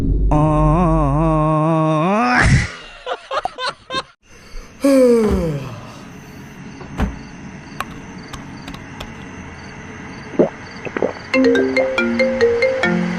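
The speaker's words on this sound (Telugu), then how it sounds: "ఈ టైంలో ఫోన్ ఏంటి?" A phone ringtone plays loudly in repeating melodic phrases, broken by brief laughter and clatter, then the ringing resumes near the end.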